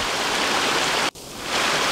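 The waterfall on Großer Muntanitz roars in a constant, close rush of water with no voices. It drops out for a split second midway, then surges back just as strongly.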